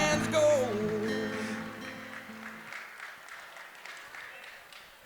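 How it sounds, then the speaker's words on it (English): Guests at a wedding on the docks applauding Devin and his mother, scattered clapping under music and a voice that fade out, leaving faint applause. "Friends and family, put your hands together for Devin and his mother."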